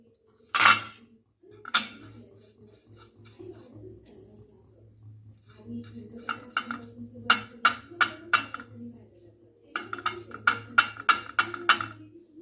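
Light metallic clinks and taps of steel idli mould plates being greased with oil, in bursts of quick clatter, close by, with a low steady hum underneath.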